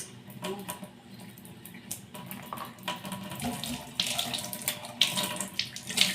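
Water runs steadily from a hot and cold tap into a basin, splashing and trickling with irregular patters and a few brighter drips near the end, close and continuous.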